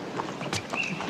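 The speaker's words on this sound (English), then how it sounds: "Hey, Gaines, why don't you take those horses over to the hot walker?" Hooves clip-clop at a steady walking pace, fairly close, with light background noise.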